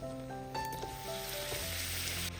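Sago poori frying in hot oil, a steady close sizzle and crackle that holds throughout with a few faint utensil touches, no talking.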